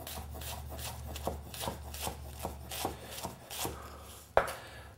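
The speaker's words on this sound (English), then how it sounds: "then you can just cut real small, and you got a minced onion already ready to go" A knife chops onion into small minced pieces on a board, in a quick, even series of close, crisp taps. Soft rubbing sounds run under them, and one sharper knock comes near the end.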